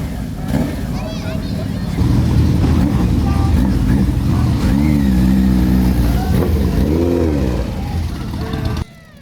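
A 1979 Kawasaki KZ1000 ST motorcycle engine runs loud and close, idling and revving in swelling bursts at a street motorcycle night, with people talking over it before it cuts off abruptly near the end.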